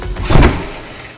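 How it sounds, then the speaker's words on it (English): The door of the world's fastest production car swings open with a loud mechanical whoosh that swells to a peak and fades out over about a second, with no talking. "That's probably the coolest door I've ever seen in my life."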